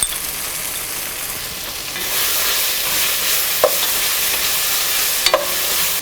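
Curry leaves and turmeric are stirred in a hot frying pan for duck roast, giving a dense continuous sizzle that swells after two seconds, with a couple of brief spoon scrapes.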